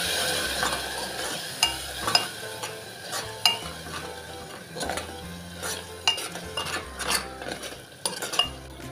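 Tomato puree being stirred with fried onions in a pan, with repeated scraping and clinking of a utensil against the metal in an irregular rhythm and a soft sizzle between strokes.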